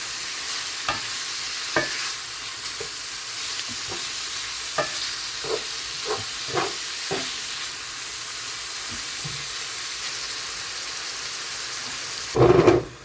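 Steak pieces sizzle in a pan under a steady hiss, punctuated by a dozen or so scraping stirs at irregular intervals, ending in a louder clatter of the utensil near the close.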